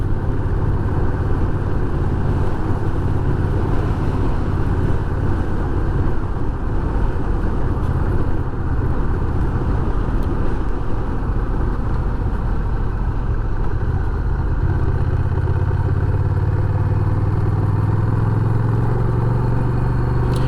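A Honda Rebel 1100 DCT motorcycle rides along a rough, broken road, its engine a steady, loud low rumble with continuous road and wind noise and a slight rise in pitch toward the end.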